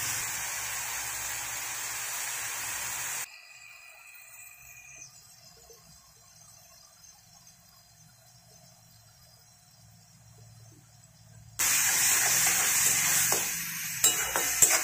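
Raw banana peel paste fries with salt and turmeric, starting as a loud hissing sizzle that drops to a faint low simmer for several seconds before the strong sizzle and stirring return.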